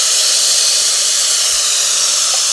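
Steam blasting from an espresso machine's steam wand as it is purged after milk steaming, a loud, steady, close hiss that holds unbroken throughout.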